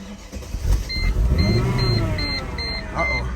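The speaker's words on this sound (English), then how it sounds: "Engine whine." A car engine hums with a rising and falling whine, while a convertible top motor buzzes in repeated short bursts; a voice speaks briefly over it.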